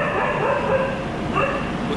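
Dogs bark and yip in the early morning near a first-class AC train travelling from Delhi to Mumbai, steady yelps carried over a continuous hum of the moving train.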